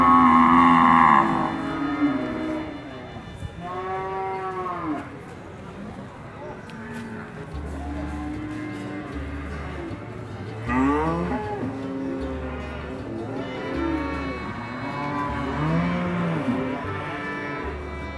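A young Indonesian bull calf, a feeder bull with a handsome head and symmetrical horns, gives low drawn-out moos that repeat through the clip, close and fairly loud, among people talking.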